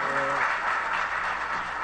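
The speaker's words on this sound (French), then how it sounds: "Sous vos applaudissements," Studio audience applause at a televised Haitian school quiz competition, a steady dense wash of clapping filling the whole stretch at moderate level, with faint tonal music fading out under it at the start.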